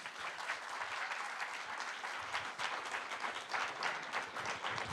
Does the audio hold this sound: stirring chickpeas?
no